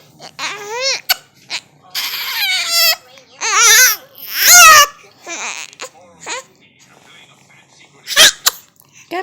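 An infant gives several short, rising cries and whimpers, broken by a sharp sneeze-like burst near the middle and another near the end, all close and fairly loud against quiet gaps.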